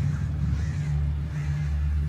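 Crows cawing in the video game Alan Wake, harsh repeated caws over a steady low ambient hum, continuous and fairly loud for the whole stretch.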